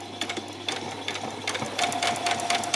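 A sewing machine running a back stitch along a sleeve hem, its fast steady needle chatter continuing close up throughout with slight shifts in pace.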